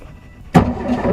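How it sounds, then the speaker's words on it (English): The engine of a 1952 MG TD kit car suddenly cranks over after a quiet lull, a close, loud burst of churning mechanical noise that carries on roughly. "After we knew that the engine would turn over"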